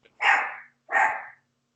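Two loud, close dog barks, evenly spaced and standing alone, with nothing else audible around them.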